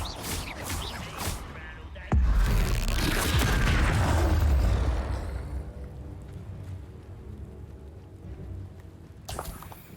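Bombarda explosion spell in the Hogwarts Legacy video game: a sudden heavy boom lands after a short lead-in and rumbles with debris for about two seconds before tailing off, with a smaller burst near the end.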